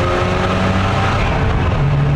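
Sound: rotary engine sports car revving

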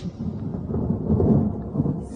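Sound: thunder and rain

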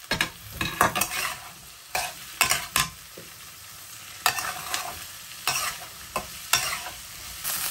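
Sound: potatoes and onions frying with garlic in a pan

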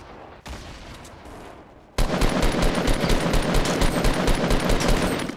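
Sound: gunfire in Fortnite video game

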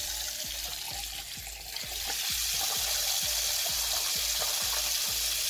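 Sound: bidet mixer tap opened, water running

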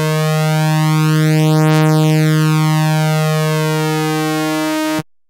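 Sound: synthesizer note played on a 2600 synthesizer

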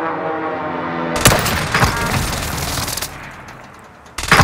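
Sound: airstrike explosions from the Call of Duty Warzone video game

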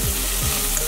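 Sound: spices frying and being stirred in a pan

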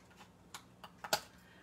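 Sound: cutting paper with scissors

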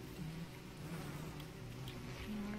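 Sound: bees buzzing in Don't Starve Together video game

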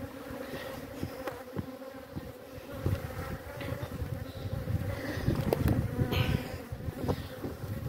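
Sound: honey bees buzzing around hive packages

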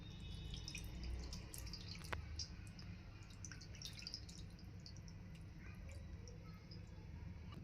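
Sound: pouring Ganges water over a Shiva lingam

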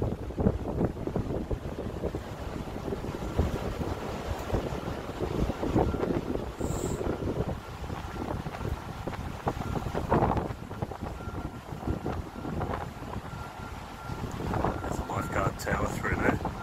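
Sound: heavy rain storm with wind, seen from a resort balcony

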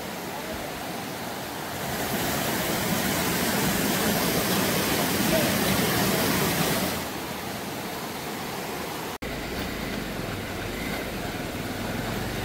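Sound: swollen Bhandari river water rushing

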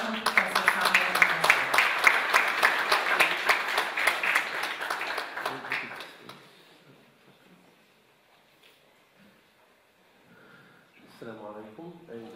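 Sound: audience applause welcoming keynote speaker

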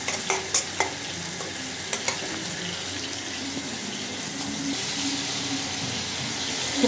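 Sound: rohu fish frying in pan

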